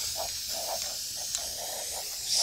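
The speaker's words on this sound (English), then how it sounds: "Spray paint the egg." A spray paint can sprays an egg with one continuous, even hiss that runs throughout at moderate, close volume.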